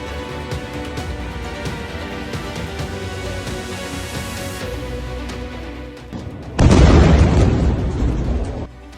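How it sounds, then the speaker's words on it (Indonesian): A missile blast from news footage of an Iranian missile strike on Tel Aviv erupts late as a loud, broad, rumbling boom after a stretch of music, then slowly fades. "satu di antaranya berhasil lolos dan meledak dengan kekuatan yang cukup menggetarkan"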